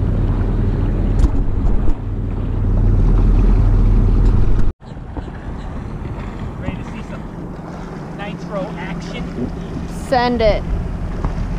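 A tuned Yamaha FX SHO personal watercraft accelerates hard on open water, its engine droning loudly near the microphone with wind buffeting, a brief cut, then revving climbs toward the limiter while someone speaks briefly.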